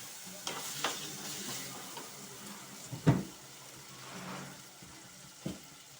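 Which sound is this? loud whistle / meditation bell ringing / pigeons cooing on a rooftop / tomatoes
tomatoes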